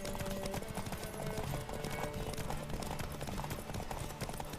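Horse galloping in The Witcher 3 video game, a fast continuous rhythm of hoofbeats with rushing game ambience throughout, faint and steady.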